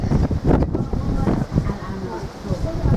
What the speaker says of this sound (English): the wind is blowing like hell through there